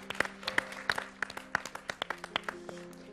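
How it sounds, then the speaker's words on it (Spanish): A small group claps joyfully during a Christmas Eve television broadcast, about a dozen sharp, fairly evenly spaced claps standing out over a faint background hum. "vamos a dar un aplauso de alegría"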